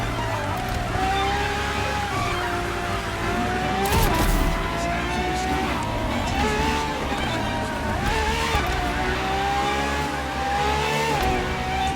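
A Ferrari FXX K supercar in The Crew Motorfest revs hard and steadily, its high engine note climbing and dipping through gear changes, loud and close for the whole stretch.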